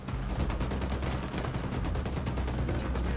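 Dense, continuous gunfire in the video game Ghost Recon Wildlands, loud and steady throughout with overlapping rapid shots and no speech.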